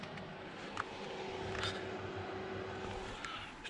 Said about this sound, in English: The noise you can hear is a heater.